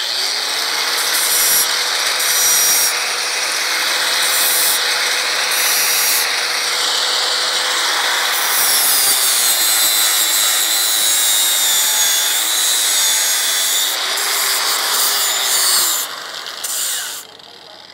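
A power tool grinds and rubs along the edge of a steel horseshoe, cutting a decorative finishing groove at the farrier's work. The noise is loud and continuous for about sixteen seconds, with a whine that shifts pitch, and it tapers off near the end.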